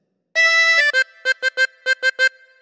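A harmonica plays a phrase of The Grand Old Duke of York, opening with one long held note followed by a run of eight short, detached notes in an even rhythm, close and clear with no talking.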